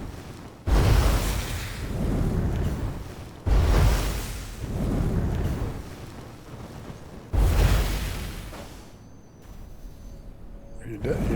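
Three heavy booms in the video game Enshrouded, each a loud low-frequency blast with a long rumbling decay, spaced a few seconds apart, with a quieter crackle toward the end.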